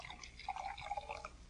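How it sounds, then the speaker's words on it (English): Sherry poured from a decanter into a glass, a faint, close trickle of liquid with small dripping splashes lasting about a second and a half. "Here, I pour from the decanter for you"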